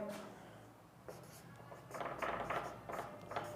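Chalk or marker writing on a board during an agriculture lesson, a series of scratchy strokes in irregular bursts, close and fairly quiet, with faint talk at the start.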